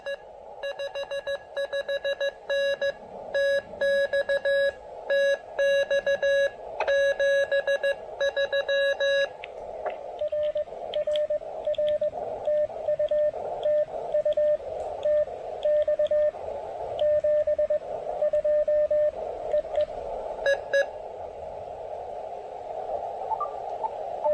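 A steady S9-strength radio tone comes through loud and clear, first in quick regular pulses, then as a longer warbling signal with brief breaks, no voices.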